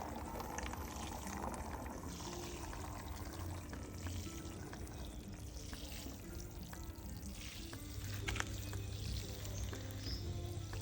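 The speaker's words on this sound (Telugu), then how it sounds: "వాటరింగ్ చేస్తున్నాం" Water splashing and trickling steadily onto soil in pots sown with leafy-green seeds, continuous and close, with a low hum and faint birds in the background.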